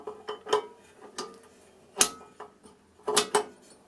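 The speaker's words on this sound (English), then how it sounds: "Put the kneading blade into the bread pan." A kneading blade is fitted into the bread pan of a Panasonic SD-2511 automatic bread maker, giving several close metallic clicks and taps in an uneven rhythm.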